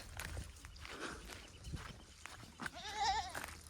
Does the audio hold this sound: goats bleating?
yes